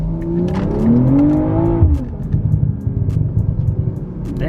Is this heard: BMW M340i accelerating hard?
yes